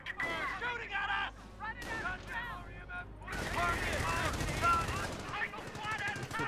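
Rapid game gunfire from Company of Heroes, sustained automatic bursts and shots rattling loudly throughout, with a person talking over the battle noise.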